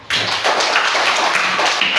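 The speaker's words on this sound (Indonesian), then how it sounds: "Silakan tepuk tangannya." A classroom group claps after presenting a discussion, a dense, loud burst of applause from many hands that holds steady for about two seconds.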